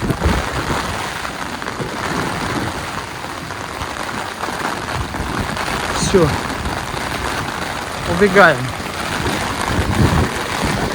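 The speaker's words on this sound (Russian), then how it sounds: "Дождь и ветер, сами понимаете," Rain and wind by the sea at Lazarevskoye on a wintry day make a steady, rushing broadband wash, while a person speaks briefly near the middle and end.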